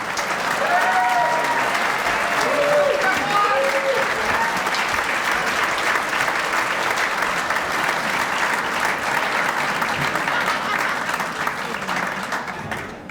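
An awards ceremony audience claps continuously for about thirteen seconds, a dense, steady wash of applause with faint voices and brief cheers underneath.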